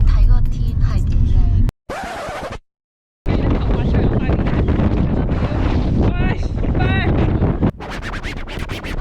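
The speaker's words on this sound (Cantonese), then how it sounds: "一陣 大風" Strong gusts buffet a microphone outdoors at Gaomei Wetland in Taichung, a loud rumbling roar with brief dropouts to silence, while people talk under the blustering.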